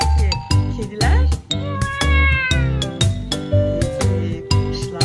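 A child imitates a cat's meow, a string of drawn-out, rising and falling meowing calls delivered loudly and close, one after another with brief breaths between.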